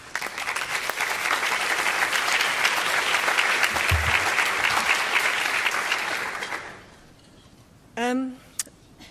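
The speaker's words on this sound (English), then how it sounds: "Let's welcome her with a clap" An audience claps to welcome a speaker at a public health lecture, a dense, steady burst of applause that fills the room for about six seconds, then fades to quiet; a brief chirp follows near the end.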